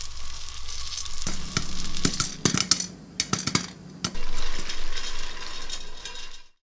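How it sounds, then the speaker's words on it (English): Half a cup of popcorn kernels poured into hot infused oil in a pot, crackling into a steady close sizzle with clattering, stirred bursts before cutting off abruptly. "So we got our half a cup of popcorn that we're going to put into our infused, just to get it popping real fast."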